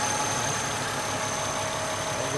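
Mercedes C240 with a 2.5-litre V6 idling, a steady, smooth hum with a faint high whine running through, close by and alone without talk.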